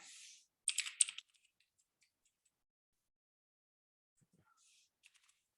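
Typing on a computer keyboard, a quick cluster of close, crisp key clicks early on, then near silence with a few scattered taps toward the end.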